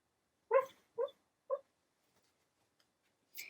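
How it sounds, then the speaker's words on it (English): A sleeping dog whimpers in a nightmare, giving three short, close whines about half a second apart and then falling quiet before a faint high squeak at the end. "My dog's having a nightmare, so if you can hear whimpering"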